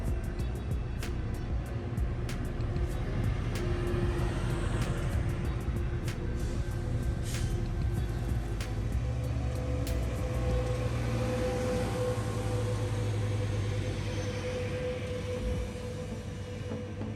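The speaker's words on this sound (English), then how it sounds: "Train 815 is ready to roll, its EMD F125 pushing the consist out of San Bernardino and on towards Laguna Niguel." Metrolink commuter train 815 departing San Bernardino, pushed by an EMD F125 locomotive, a steady rumbling drone with rolling noise and scattered clicks and squeals, fairly distant.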